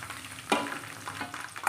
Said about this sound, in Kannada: ಜೀರಿಗೆ ಹಾಕಿದ ತಕ್ಷಣ ಇದೆಲ್ಲ ಒಟ್ಟಿಗೆ ಹಾಕ್ಕೊಂಬಿಡೋಣ